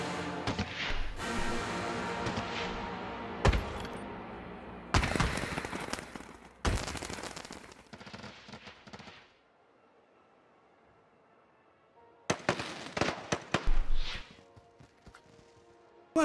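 Fireworks in the theme park game Planet Coaster, sharp booming bursts that come in clusters over loud music, then a quiet lull before another rapid volley of bangs.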